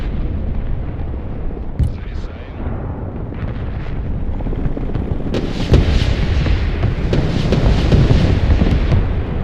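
Rocket strikes and explosions rumble through a war video game, with heavy booming blasts and a dense, continuous roar that swells louder in the second half, with a voice talking over it.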